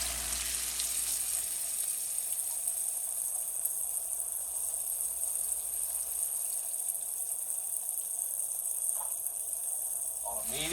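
Pork chops browning in a shallow layer of oil in a pan over medium heat, a steady, soft sizzle running throughout with a few faint clinks.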